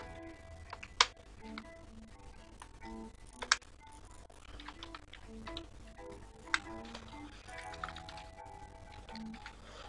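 Computer keyboard being typed on in MS Word, faint sparse key clicks with a few sharper taps scattered over a quiet room background.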